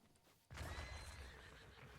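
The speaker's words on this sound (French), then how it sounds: "Ça va, c'est le cheval." A horse in the video game Zelda Breath of the Wild lets out a sudden, loud, close whinny halfway in, following near silence.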